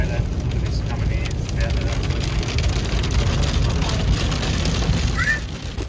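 Hail pounds down in a heavy storm outside a shed sheltering a bus, a dense, steady roar of impacts on the roof that holds at the same loudness for the whole stretch.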